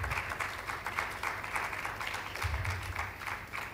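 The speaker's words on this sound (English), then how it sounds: "And you're clapping now because you think I'm done." Audience at a programming talk on code refactoring claps in a sustained, moderately quiet round of applause with fairly even hand claps throughout.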